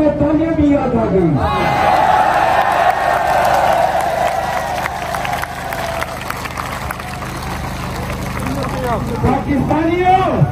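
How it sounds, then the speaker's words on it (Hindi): A crowd at a Pakistani political rally in Kasur claps and cheers under a loud amplified speaker's voice with echoing reverb, the applause swelling and lingering as a broad roar throughout. "शुक्र है कसूर के लोगों को तालियां भी याद आ गई।"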